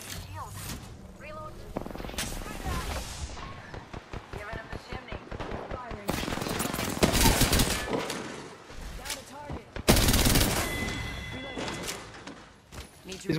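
Rapid bursts of gunfire from the Apex Legends battle royale game crack out in dense, repeated volleys over game effects, mixed with excited player talk throughout.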